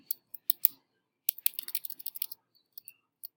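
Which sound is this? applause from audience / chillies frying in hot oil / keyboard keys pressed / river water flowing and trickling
keyboard keys pressed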